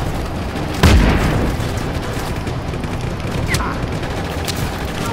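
A booming explosion goes off in the open-world action game Just Cause 3, a sharp loud blast followed by a rumbling tail and scattered fainter pops and bursts.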